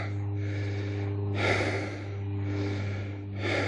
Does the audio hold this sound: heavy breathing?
yes